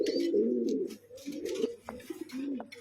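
Pigeons in a fancy breed collection give low, throaty coos, one rolling phrase after another close by, with soft rustles and faint clicks between.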